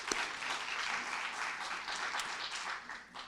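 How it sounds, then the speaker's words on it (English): Summit audience applauds a guest, a faint, even patter of clapping heard from a distance that holds steady through the short stretch. "Big round of applause for Joe Pantalone."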